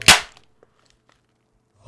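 A single sharp crack of a cheap plastic gaming keyboard snapping up close, followed by near silence and a faint rustle at the end.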